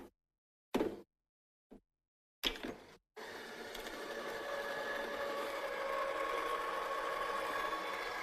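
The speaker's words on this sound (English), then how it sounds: "Then we'll run that through the die cutting machine." A few isolated thumps and handling knocks, then a card panel goes through a die cutting machine with a steady motor whir that hums on evenly at close range.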